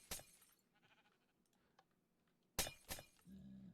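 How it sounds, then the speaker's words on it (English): Glass-shatter burst of a Minecraft Bedrock Edition nether portal breaking in a gold farm build, a sharp loud crash with a second crash about two and a half seconds later, quiet game ambience between. "Yeah, the glass breaking portal sound."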